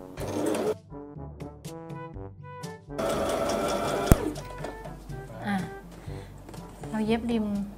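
A sewing machine stitching fabric seams for a pleated cloth face mask, bursts of rapid mechanical whirring broken by pauses, close by, with someone talking over parts of it.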